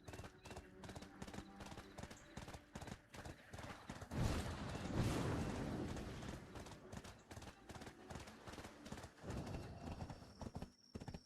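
Rapid hoofbeats of a galloping horse in the BDO video game, with a neigh partway through. The clip-clop is close and continuous, swelling in the middle.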